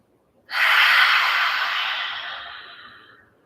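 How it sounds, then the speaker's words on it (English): A single deep inhalation during a yin yoga stretch, drawn in with the tongue hanging out of the right side of the mouth, rising abruptly and then tapering off slowly over about three seconds, close and fairly loud with no talking. "Breathing in."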